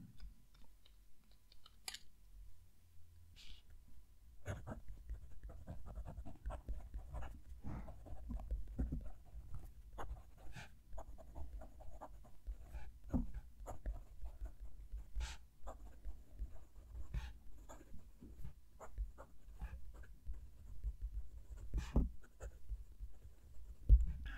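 Steel nib of a Jinhao 100 Centennial fountain pen scratching across lightly textured paper, with soft continuous scraping broken by frequent small ticks and taps as strokes start and lift, close and quiet.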